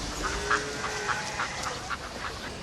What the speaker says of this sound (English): We could catch bird flu from feeding these ducks.